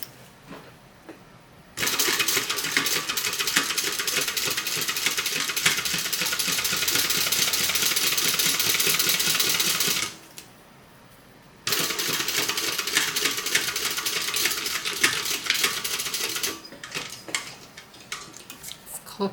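Home sewing machine stitching a crossbody bag from the lining side with the zipper wrong side up, running in two sustained bursts of about eight and five seconds separated by a short pause, close and fairly loud with no talk.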